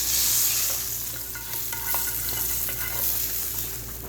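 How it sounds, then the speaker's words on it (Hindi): Hot tadka tempering poured over cooked chana dal in a pot, giving a steady broadband sizzle that starts strong and gradually settles while spoon stirring clicks through it, with no talking. "तो इस तरह दाल को तड़का लग चुका है"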